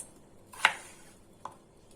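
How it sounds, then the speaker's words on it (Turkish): Potatoes diced into cubes with a knife for a Hatay-style summer türlü stew with meat: two sharp, separate chopping strikes on a board, close and crisp, with quiet between them. "Küp küp şekilde doğrayacağız."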